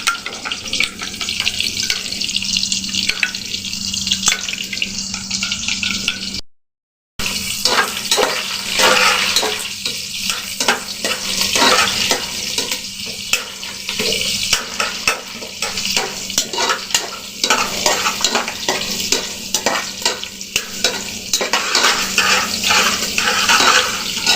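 Two eggs whisked in a bowl with black pepper and salt, giving a fast, steady run of light clicking strokes that continues through the clip with one brief pause, close by and with no talking.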